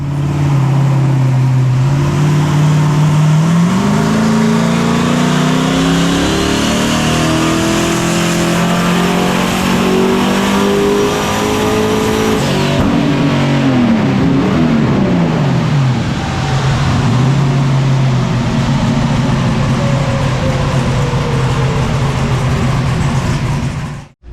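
A Camaro built for Sick Week roars on dyno rollers, its engine climbing through a long loud rev that holds high, dips, then sweeps up again before cutting off abruptly at the end.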